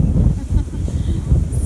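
Strong wind buffeting a microphone on a sandy beach with sand blowing around, a loud, continuous low rumble with gusty surges and no clear pauses.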